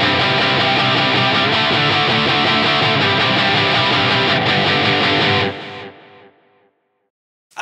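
An electric guitar runs through a Line 6 Helix modeler with a heavy distorted tone, hit hard in dense, loud sustained chords for about five seconds before ringing out and fading to silence.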